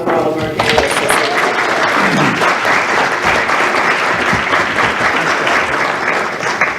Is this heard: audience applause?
yes